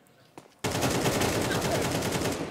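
Rapid automatic gunfire erupts in a video game after a near-quiet moment, a dense, loud stream of shots continuing steadily to the end, with a single earlier click or shot.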